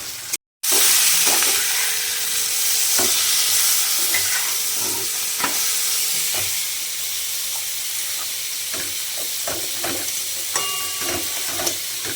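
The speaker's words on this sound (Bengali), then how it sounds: "পেঁয়াজ রসুন কাঁচা কাঁচা লঙ্কা শুকনো লঙ্কা কালো দিয়ে সব ফোড়ন দিয়ে একটু ভাজা ভাজা করে নিয়ে" Onion, garlic, green chillies and dried chillies fry in hot oil with a steady sizzle and hiss. Occasional stirring clinks break the sizzle, which carries on close and continuous with no talk.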